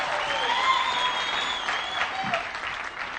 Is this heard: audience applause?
yes